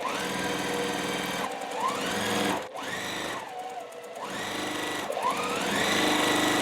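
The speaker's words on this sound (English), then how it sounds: "what I'm gonna do now is come over here and sew onto this side" A sewing machine stitches quilt block pieces in several quick bursts, its motor whirring up to speed, running steadily, then winding down between passes, loud and close with no talk.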